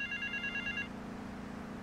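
Telephone ringing in the video game GTA Vice City: a short electronic ring burst of bright repeated tones lasting under a second, then fading into a low background hum, with no talking.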